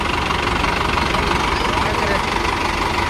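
A vehicle engine runs steadily at a low, rumbling idle as the clutch is let out, a constant close drone with a slight knock throughout and no break.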